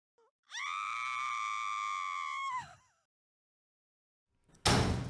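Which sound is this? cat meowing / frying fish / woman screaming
woman screaming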